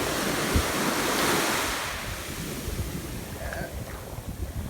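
Sea waves wash onto a sandy beach in Gibraltar, a loud rushing surge that fades into a softer, fizzing backwash, with wind buffeting the microphone.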